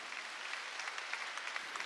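A church congregation claps together during a Korean Wednesday worship service, a steady, fairly quiet wash of many hands with no voices over it.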